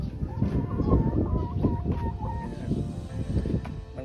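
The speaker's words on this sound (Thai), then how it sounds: "นี่ก็เป็นไก่นะครับที่ผมได้ เลี้ยงเอาไว้ประมาณ5ตัวนะครับ" Several backyard chickens, about five hens, cluck and call steadily inside a coop close by, with a faint rooster-like crow and a few low voices in the background.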